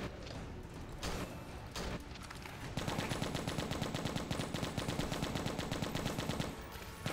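Rapid automatic machine-gun fire in the video game Left to Survive, a dense, loud stream of evenly spaced shots that starts after a few scattered heavier blasts and continues without pause to the end.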